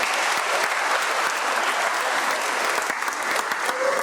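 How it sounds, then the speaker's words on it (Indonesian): A church congregation claps for children after their first communion Mass, a thick, continuous wave of clapping that stays loud and even throughout. "kita tepuk tangan dulu"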